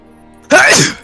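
A single loud, close human sneeze bursts out suddenly after near silence, sharp at the start and trailing off over about half a second, with no other sound around it.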